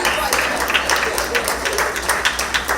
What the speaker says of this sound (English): you could give yourself a round of applause